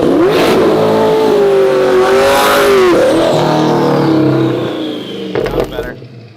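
A twin-turbo 6.2-litre C8 Corvette accelerating hard, heard as a loud rising engine note that climbs through the gears, then a sudden drop-off and a short burst at the end.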